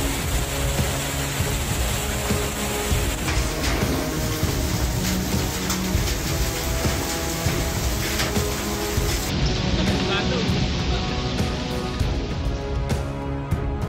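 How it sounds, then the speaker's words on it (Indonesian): Hailstones pound house roofs in Bogor as a dense, continuous clatter of hard pellets on roofing, loud and steady throughout, with a faint rumble behind. "tiba-tiba terdengar banyak suara hantaman kerikil di atap rumah"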